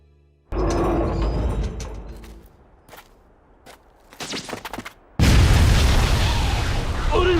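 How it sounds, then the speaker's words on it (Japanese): An abandoned factory blows up in an anime, a heavy boom that starts abruptly and decays into rumbling debris, followed by scattered pops, a pause, then a second loud, sustained blast that roars to the end. "廃工場が爆発しました"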